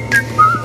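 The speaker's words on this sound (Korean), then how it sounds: "제가 휘파람을 했죠" Short whistled notes, two brief tones with a pause between, close and clear over a faint background hum.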